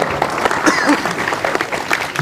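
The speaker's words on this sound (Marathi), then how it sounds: "सगळ्यांनी टाळ्या वाजून त्यांचं स्वागत करा" Audience applause welcoming a guest, a Maharashtra dignitary, at a religious Haripath discourse gathering; dense steady clapping fills the whole stretch at an even, moderately loud level with a few sharper peaks.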